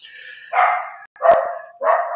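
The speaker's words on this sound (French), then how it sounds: "Ah, le chien." A dog barks three or four times in a quick sequence, loud and close, with short silent gaps between the barks.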